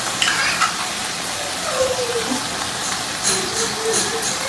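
Chicken chili being stirred in a pan after soy sauce and red chili sauce go in, giving a steady soft sizzle with scraping stirs throughout, under faint background noise.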